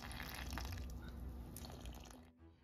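Warm filtered water pours into a container on a kitchen scale for a sourdough starter, a soft steady trickle close by that thins and stops near the end.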